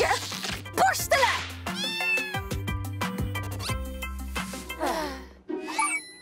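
Cartoon kittens give a series of close, loud meows and yowls in quick succession, some rising and some falling in pitch, mixed with short bumps and thuds.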